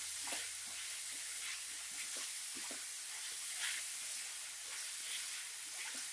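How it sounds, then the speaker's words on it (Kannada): Mushrooms fry over a high flame in a garlic mushroom fry, a steady close sizzle and hiss broken by scraping stirs in the pan, with no voices. "ಈಗ 1 ನಿಮಿಷ ಹೈ ಫ್ಲೇಮ್ ಇಟ್ಕೊಂಡು ಫ್ರೈ ಮಾಡ್ಕೊಬೇಕು."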